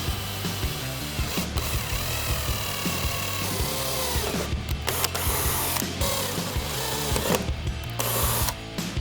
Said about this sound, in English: I actually think I'm just gonna drill through the splitter first in all of them